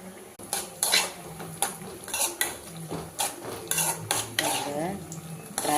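Cashews, raisins and pumpkin seeds frying in a pan while a metal spoon stirs them, producing repeated loud clinks and scrapes over a soft, steady sizzle, with no talking.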